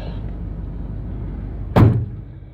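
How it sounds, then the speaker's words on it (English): The door of a 1978 GMC G30 motorhome is shut with a single solid, close-up thud against a steady low background rumble. "I'm gonna close this door."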